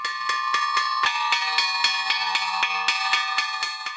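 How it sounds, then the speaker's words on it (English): A metal farm bell rings repeatedly in quick, even strokes to call pigs, loud and close, with bright overlapping tones that keep sounding throughout. "It's amazing that the pigs respond to the sound of the bell."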